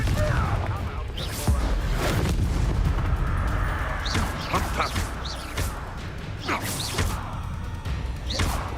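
Hogwarts Legacy on Xbox, with repeated spell-casting blasts, booms and crackling impacts from combat layered over dense game noise and the player speaking throughout.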